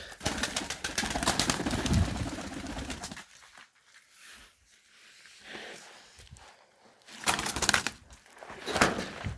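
Pet pigeons or doves cooing and fluttering indoors, with soft low coos and rustling at close range, busier at the start and end with a quieter stretch in between.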